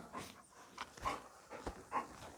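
A group of dogs at a shed pants and whimpers faintly, giving soft breathy huffs and a few small whines in an uneven rhythm, distant and quiet, with no talk.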